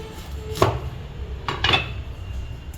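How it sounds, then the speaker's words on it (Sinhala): A knife cutting through a lime on a board, giving two or three distinct sharp chops spaced apart, close and moderately loud against a quiet kitchen background. "දෙහි ගෙඩිය මේ උඩ කපලා ඊට පස්සේ මේක භාගෙ කපනවා."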